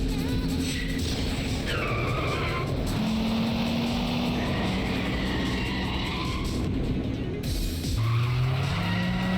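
Car racing and skidding through turns in the video game Yakuza 5, engine droning steadily with rising and falling pitch, tires screeching repeatedly over the revving, loud and continuous throughout.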